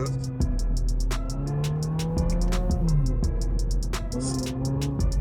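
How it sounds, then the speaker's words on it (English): Toyota GR86 fitted with an AWE Touring catback exhaust, downshifting with engine notes rising and falling in steady revving sweeps, loud and close under a constant rumble. "Right now I'm on 3rd gear, downshift."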